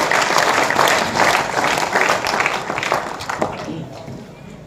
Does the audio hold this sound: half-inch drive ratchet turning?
no